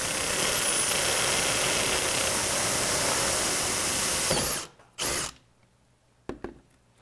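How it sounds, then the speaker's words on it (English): Power drill boring a hole in a workpiece during electronics and wiring work, a loud continuous high whine running steadily for several seconds, then cutting off, followed by a couple of brief short bursts. "Let's drill a hole."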